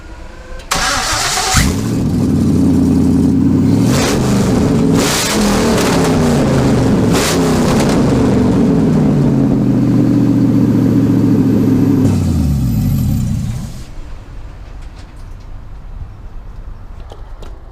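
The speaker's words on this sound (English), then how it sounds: "She's running exactly like she should." A 1965 Chevrolet C10 short bed with an LS1 V8 swap cranks, fires up and settles into a loud, steady rumbling idle with a few revs before the engine cuts off.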